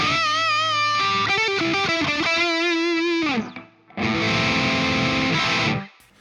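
An electric guitar with low-gain distortion plays a slightly gritty black metal line of sliding notes, then rings out with a strummed chord that fades.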